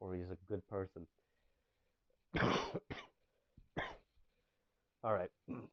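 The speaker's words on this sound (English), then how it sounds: "I'm gonna stop coughing into the mic." Several short, harsh coughs and throat-clearing bursts land close to a microphone, separated by quiet gaps.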